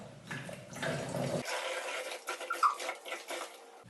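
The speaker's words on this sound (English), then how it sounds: "First, we will need to put the water into the bottle." Water is poured into a bottle, a soft gurgling trickle that starts, breaks off briefly and resumes, quiet and close with no talking.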